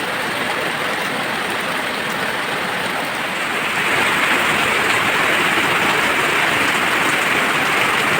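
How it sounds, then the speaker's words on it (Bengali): Floodwater rushing in a strong current through a drain during monsoon flooding, a steady, loud, broadband wash of water that swells slightly halfway through, with no voices. "ড্রেনে এত জল জমেছে, স্রোতে জল যাচ্ছে"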